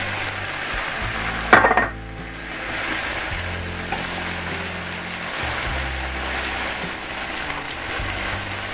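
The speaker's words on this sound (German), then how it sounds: "dass die auch noch ein bisschen mit anbraten hier" Onions sizzle in a pan alongside zucchini and bell peppers, a steady soft frying hiss with a brief clatter of utensils against the pan early on, then continued quiet sizzling.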